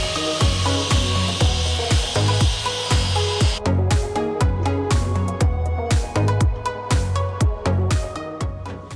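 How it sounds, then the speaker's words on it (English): Grinding and sanding plasma-cut steel subframe parts for a DIY expedition vehicle: loud, continuous abrasive rasping with rhythmic back-and-forth strokes, close up and alone. "The first step is to grind and sand these parts so that they're nice."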